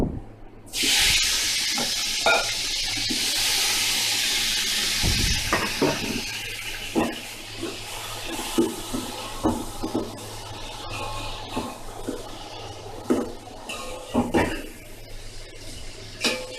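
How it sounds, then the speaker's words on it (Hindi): Tomatoes dropped into dark browned onions frying for chicken tikka biryani, a loud burst of sizzle followed by steady frying hiss and repeated scraping and knocking of a spoon stirring the pan. "अब इसके अंदर टमाटरों को शामिल करते हैं।"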